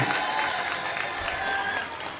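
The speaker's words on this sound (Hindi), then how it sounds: "एक बार जोरदार ताली बजा दो सारे जने।" Crowd at a political gathering in Delhi clapping, a broad, continuous wash of applause from many people that eases off near the end, with crowd murmur beneath it.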